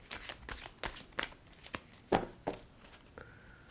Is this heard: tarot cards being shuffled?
yes